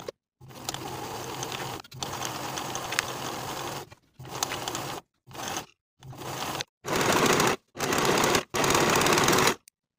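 A sewing machine runs in repeated bursts while stitching a curved trouser pocket seam at a 5/8 inch allowance, each run of rapid mechanical chatter broken by short silent pauses, the later runs louder and steadier, with no talking.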